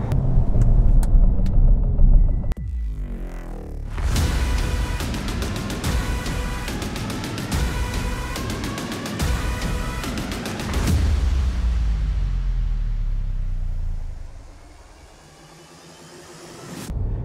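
Diesel SUVs, a Peugeot 3008 and a Citroen C5 Aircross, roar and rev hard accelerating in a drag race, rising through gear changes, then fade into rumbling road noise before a brief lull.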